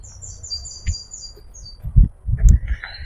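Free-flying wild birds at a wildlife rescue centre give high thin chirps and twitters in short bursts, over low rumbling background noise and a few thumps.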